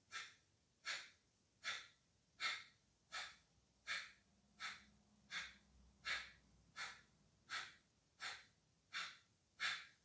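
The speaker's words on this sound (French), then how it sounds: "on va venir faire 15 petites expirations Kapalabhati" Fifteen-odd rapid forced exhalations of Kapalabhati yoga breathing during a dynamic yoga session, sharp breathy puffs at a steady rhythm of roughly one every 0.8 seconds, close and clear with no talking.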